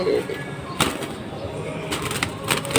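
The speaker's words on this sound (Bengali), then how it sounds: "এই খুব সুন্দর ছটফটা কবুতর" Pigeons at a pigeon market give soft, close cooing calls with a few brief flutters and sharp clicks, set against a low murmur of market talk.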